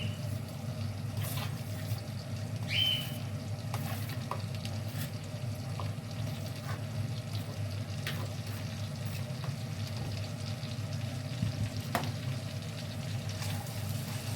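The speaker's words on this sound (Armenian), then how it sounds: "հիմա մսին ավելացնում եմ մանրացրած կիսալուսնաձև սոխը։" Meat with chopped half-moon onion frying in a pan, a steady low sizzle running throughout with occasional stirring scrapes and clicks.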